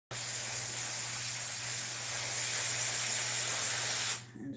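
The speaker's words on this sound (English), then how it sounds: "So I'm about to spray some more in the inside." Dry shampoo hisses from an aerosol can in one continuous, close, loud spray lasting about four seconds, then cuts off abruptly.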